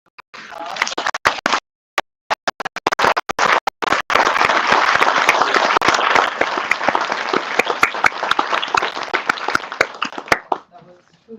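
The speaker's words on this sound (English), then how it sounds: "Let's give them a round of applause." Scattered claps at first, then a full round of audience applause after a panel discussion on women in the Congo, building into dense, loud clapping before tapering off, with voices faintly heard near the end.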